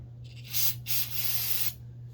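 Aerosol cleaner sprayed into the small jet of a Yamaha TW200 carburetor: three short, close hissing bursts in quick succession, the last held longest, with a faint steady hum beneath.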